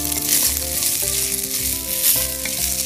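Rice sautéing in ghee in a pan, a steady close sizzle and crackle running through the whole stretch, with tonal background music layered over it.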